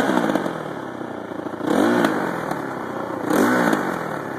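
Two-stroke-style dirt bike engine, a Yamaha YZ250 or Honda CRF450R with a major exhaust leak, running close up with a steady rough drone and two distinct revs that rise and fall about two seconds apart.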